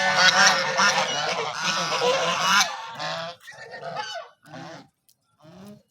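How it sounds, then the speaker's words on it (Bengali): A flock of geese honks loudly together, calls overlapping densely at first, then thinning into a few separate honks with short pauses. "এখানে রাজহাঁস অনেকগুলো রাজহাঁস"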